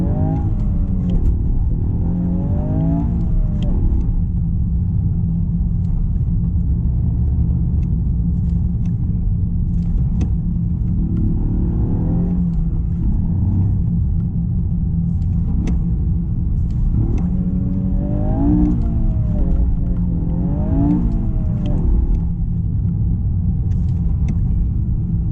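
A 2021 Toyota Yaris GR driving on snow, its engine droning steadily at close range, with repeated rises and falls in revs as it shifts and accelerates over a constant road rumble.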